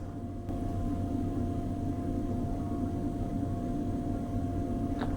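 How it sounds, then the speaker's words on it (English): A train rolls past close by, filling the air with a steady, loud low rumble and a faint tonal hum that holds unchanged throughout, with no voices. "So you can't tell because of the train going"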